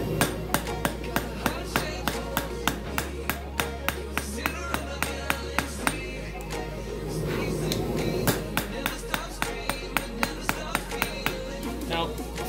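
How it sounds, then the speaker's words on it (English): Steady ringing blows of a small 2-3 pound hammer forging steel on an anvil, struck at a quick regular rhythm with a brief pause midway, close and loud. "No need for my big hammer, I'm just gonna use my little 2-3 pound one."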